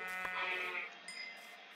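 A sheep in the video game Minecraft gives a short wavering bleat with a bright, buzzy harmonic tone, then a second fainter bleat, heard alone and fairly close.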